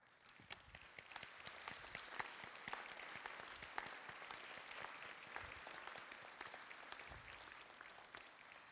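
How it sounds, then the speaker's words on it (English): An audience at a Dukes of Distinction awards evening applauds steadily, many individual claps cracking sharply through a dense, even roar that holds for several seconds, fairly distant and quiet in level. "please stand for a round of applause"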